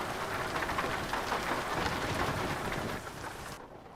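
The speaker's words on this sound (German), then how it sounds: "jetzt hört man auch die Regentropfen prasseln." Steady, dense rain patters on surfaces in the Euro Truck Simulator 2 video game, a constant wash of drops that thins out near the end.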